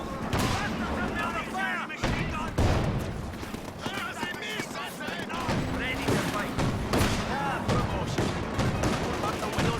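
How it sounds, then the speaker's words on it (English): A Firefly tank gun fires in a multiplayer war game amid a busy battle, heavy booming shots mixed with dense gunfire and explosions while people talk over it. "Wow, Firefly firing makes a pretty cool noise."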